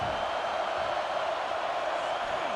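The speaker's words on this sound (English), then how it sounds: "this crowd is turning it up a notch" Stadium crowd in the College Football 26 video game, a steady, dense roar of cheering and noise holding at an even level throughout, with no clear voices standing out.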